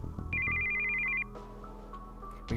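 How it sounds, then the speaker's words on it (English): A cell phone ringtone for an incoming call in the visual novel Steins;Gate 0, a bright electronic trill ringing for about a second amid soft background music. "We heard the sound of an incoming call on his cell phone."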